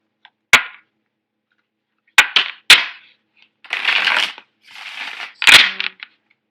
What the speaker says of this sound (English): I'm going to lay out your cards.